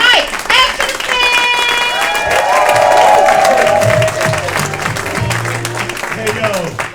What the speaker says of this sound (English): Start clapping right now for the very hilarious, the very dope Mike Epstein.